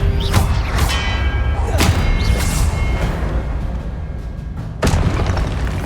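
Magic spells such as fire and blasting curses go off in the video game Hogwarts Legacy, with loud booming impacts and whooshing bursts over a dense, constant game soundtrack.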